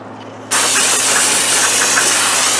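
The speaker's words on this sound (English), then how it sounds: "Okay, we'll spray it down one more time." Brake cleaner is sprayed onto the brake parts of a 2002 Dodge diesel, starting abruptly after a quiet moment and continuing as a loud, steady, close hiss.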